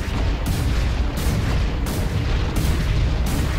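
Continuous dense weapon fire and explosions from the mech combat video game Hawken, a loud sustained roar with rhythmic bursts and booms throughout, no pauses.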